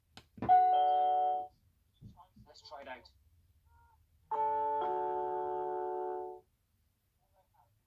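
A two-tone electronic chime from a Nest Hello video doorbell rings clearly, followed after a short spoken phrase by a second longer chime, each note sustained and ringing out.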